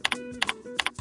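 Close, quiet clicking on a computer keyboard: three quick pairs of keystrokes in an even rhythm over about one second.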